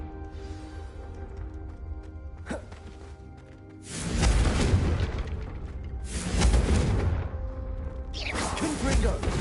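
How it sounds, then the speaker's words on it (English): Fire spell casts in Hogwarts Legacy, Confringo bursting in three heavy booming explosions spaced a couple of seconds apart, each with a rumbling crackling tail, loud and close after a quieter stretch. "a Confringo cast travels a bit farther than that of a spell like Incendiary"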